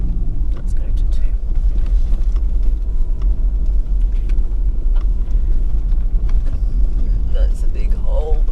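A car grinds along a wet, potholed logging road in Victoria's Big River State Forest in second gear, its steady low engine rumble and road noise loud and continuous, with tyre crunches and knocks over the rough surface.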